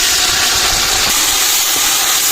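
Tomatoes tip into lightly browned onions in a pot and hiss loudly, a dense, unbroken sizzle that fills the whole moment with no voices over it.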